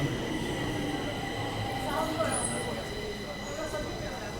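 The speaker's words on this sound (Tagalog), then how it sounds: "So, yun na yung sasakyan nating tren." A train rumbles along steadily in Sweden, with a continuous low roar and faint high metallic whines from the wheels.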